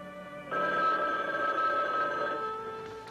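A telephone bell rings steadily from about half a second in, a bright sustained trill that fades slightly toward the end, set in the soundtrack of a 1980 horror movie trailer about women in danger, with no talking.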